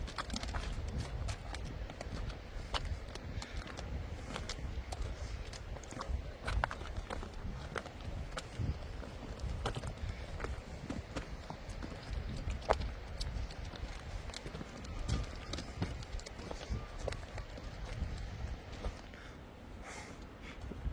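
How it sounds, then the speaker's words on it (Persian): Donkeys walk along a rocky path, their hooves clopping in an uneven run of close hoofsteps, with light shuffling and a faint voice in the background. "الاغا این چند بار دارن از این مسیر میرن که مسیرش بهتره"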